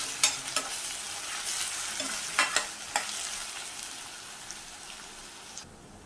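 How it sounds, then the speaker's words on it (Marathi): Onion sautéing in oil with ginger garlic paste, a steady bright sizzle with several sharp spoon scrapes and pops near the start and middle, fading slightly toward the end. "ह्यामध्ये आलं लसूण पेस्ट घालते आणि पुन्हा अर्धा ते एक मिनिट भर परतून घेतो"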